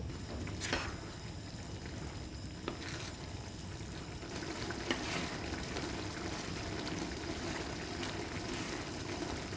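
Korean stir-fried seafood with octopus, tripe and shrimp, nakgopsae, simmers and sizzles in a pan, a continuous soft crackle and bubbling with occasional sharper pops and scrapes.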